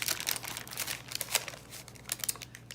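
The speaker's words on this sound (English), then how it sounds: "Take your time, pull the parchment paper off." Parchment paper is peeled off homemade pie dough, giving soft crinkling and rustling with a few sharper crackles, fairly faint and close, with no talking.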